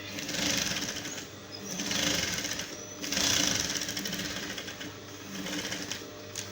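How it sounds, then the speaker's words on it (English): Sewing machine running in short bursts while stitching the seams of a pair of shorts, a fast mechanical whirr that rises and fades several times, heard close and fairly quiet. "then run a stitch again to this way."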